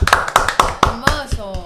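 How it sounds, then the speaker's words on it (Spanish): A handful of sharp, distinct hand claps sound on a live studio show in a quick, irregular rhythm, close and loud, with someone talking over them. "Un aplauso para él."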